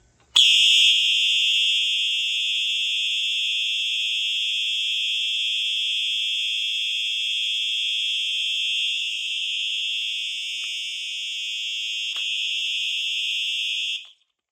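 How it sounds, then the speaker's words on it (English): Loud Simplex 4903-9236 and 4903-9241 fire alarm horns, set off from a Simplex 2099-9754 pull station, blare in one continuous, piercing tone for over ten seconds, then cut off abruptly. "these horns are extremely loud"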